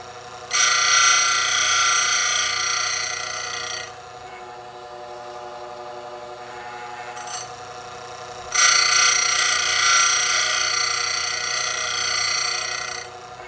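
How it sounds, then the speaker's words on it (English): A Bell K-6 square chain grinder works a saw chain with a steady, bright high whine in two long passes, close and loud, separated by a quieter motor hum between strokes. "So that's the grinding on it."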